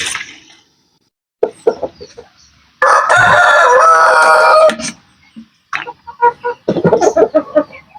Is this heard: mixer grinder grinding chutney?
no